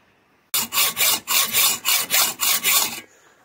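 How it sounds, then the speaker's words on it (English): Hand sawing a part off a workpiece held on a lathe, about nine loud, close, rhythmic rasping strokes in a steady back-and-forth rhythm, then silence, with no talking. "if you're gonna do a hand sawing operation like this"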